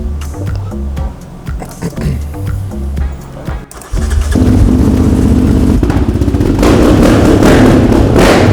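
A motorcycle engine, unrun for about 18 months, roars to life at Santa Pod drag strip and holds a loud, steady rumble after a few seconds of voices and bumps, growling continuously up close.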